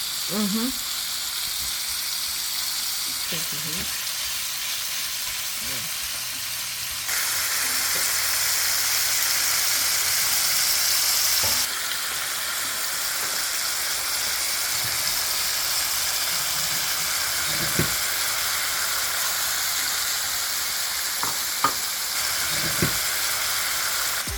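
Shrimp fry in a hot pan for fried rice with a steady, close sizzle. The sizzle gets louder for a few seconds as the pieces are turned, and there are occasional soft clinks and faint voices in the background.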